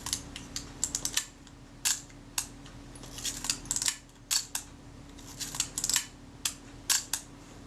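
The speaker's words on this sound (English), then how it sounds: "Check that the shutter cocks and fires." Clicks and snaps of a Retina IIc camera as its shutter is cocked and fired, a string of sharp, close mechanical ticks in irregular bursts against quiet background hum.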